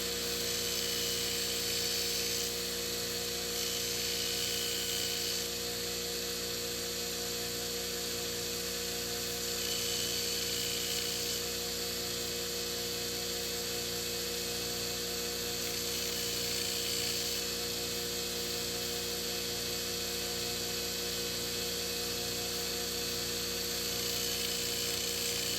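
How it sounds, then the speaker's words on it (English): Steady mechanical whine of a power tool grinding down the sole of a Bryan Bros Takomo BB803 golf wedge, a continuous even drone with a regular pulsing hum underneath, no talk. "we're going to grind this down just a little bit before we get into actually putting everything together"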